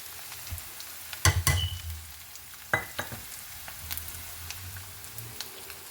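Orange peel pickle fries in a pan as chili powder is stirred in, giving a low sizzle broken by a few sharp spoon knocks and scrapes, with no speech.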